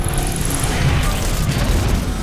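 Artillery strike explosions in Transformers: Fall of Cybertron, a dense, continuous run of heavy booms and rumbling impacts that stays loud throughout, with no voices over it.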